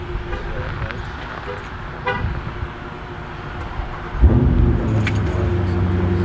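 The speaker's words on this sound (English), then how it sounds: "you can remote start the car actually and speed it up" A new 2018 Dodge Durango SRT gives a short horn chirp after remote start, and its engine then settles into a steady idle hum close by, with people talking nearby.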